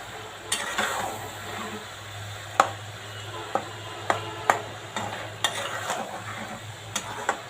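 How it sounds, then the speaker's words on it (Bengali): Chickpeas frying in a pan over lowered heat, a soft steady sizzle broken by a string of sharp utensil scrapes and taps as they are stirred, fairly quiet and close. "ভাজতে থাকতে হবে।"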